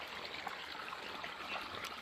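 Soft, steady trickle of irrigation water running along a shallow field channel, faint and continuous with small gurgles.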